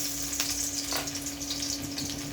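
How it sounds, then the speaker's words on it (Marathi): Steady sizzling of garlic frying in hot oil, a continuous crackling hiss with a low hum underneath and a few soft clinks. "तेल तापलंय, मी लसूण घालते"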